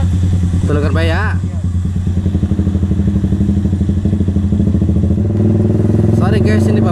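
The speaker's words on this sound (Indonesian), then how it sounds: "ini bawa motor teman, jadi suaranya ada berisik banget" A noisy Yamaha Vixion motorcycle engine runs close by, a loud, rough, clattering putter that stays steady throughout, with brief bursts of a voice over it.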